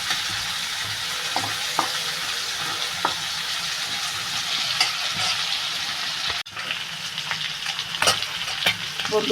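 Prawns sizzle and crackle as they fry in a pan, a steady close hiss broken by scattered spatula scrapes and stirring clicks throughout, with no voices.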